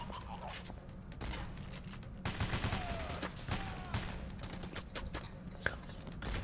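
Bursts of rapid gunfire from the video game Payday: The Heist, scattered shots and short automatic volleys over a low mechanical hum, with a voice speaking briefly.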